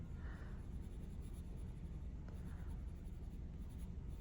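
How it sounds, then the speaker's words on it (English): Graphite pencil shading across paper during a half portrait drawing, a steady soft scratchy rasp of repeated strokes building tone, continuous and fairly quiet with no talking. "you can see I'm holding my pencil just like a regular, how I would write with a regular pencil"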